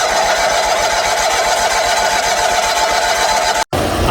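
Small 1970s John Deere 400 garden tractor engine at full throttle, a loud steady high-revving drone with a raspy buzz that holds constant, then drops out abruptly for an instant near the end.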